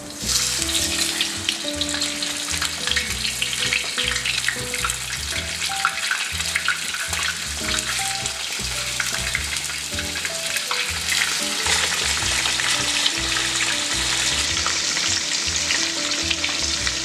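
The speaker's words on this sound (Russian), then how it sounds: "если уж мы жарим курицу вначале" Chicken pieces fry in hot oil for a Uzbek-style plov, giving a steady, dense sizzle and crackle throughout, with occasional stirring clatter, close and alone with no talking.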